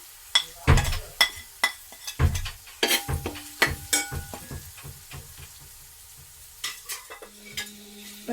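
Masala spices fry in a pan in a home kitchen while a utensil stirs and scrapes, giving irregular clinks and scrapes over a faint sizzle, close and fairly quiet.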